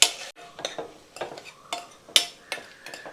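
A spoon scrapes and clinks around a metal pot in a few quick stirring strokes, close and fairly loud, with no talking.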